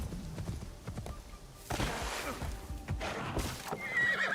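A horse in the Assassin's Creed Shadows video game whinnies loudly while its hooves clip-clop in a steady rhythm.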